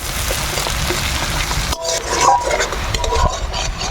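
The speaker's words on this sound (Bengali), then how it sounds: "পেঁয়াজগুলো ভালো করে আমরা ভাজি নিব" Chopped onions fry in hot oil with bay leaf, a dried red chilli and cumin, stirred steadily in a pan; a continuous sizzle runs under scraping, clinking spoon strokes, with no talking.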